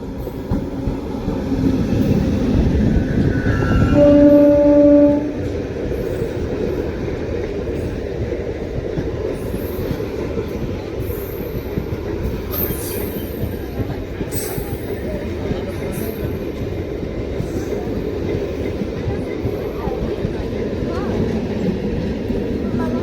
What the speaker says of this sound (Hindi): देख सकते हैं आगे एकदम पास में ट्रेन आ चुका है